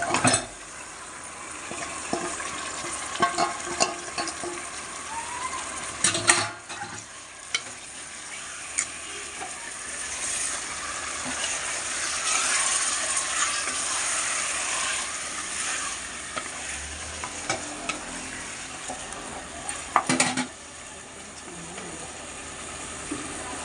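Chicken fries and gets stirred in a pan with ginger-garlic paste for a home-style chicken curry, a constant loud sizzle broken by scraping spoon strokes and a few sharp clatters against the pan.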